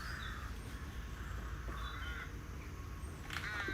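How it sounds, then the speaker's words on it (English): Crows cawing outdoors in the United Kingdom, several harsh caws at a distance over a low, steady background rumble, with no one speaking. "good to hear the birds are with you today."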